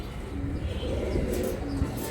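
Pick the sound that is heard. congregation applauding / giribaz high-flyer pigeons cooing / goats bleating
giribaz high-flyer pigeons cooing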